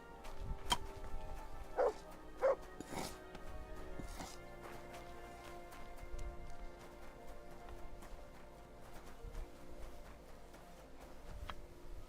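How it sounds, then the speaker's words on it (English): Dog barking in Kingdom Come: Deliverance II, a few distinct barks early on over a steady game ambience with soft footsteps and background hum. "Good dog, Mutz."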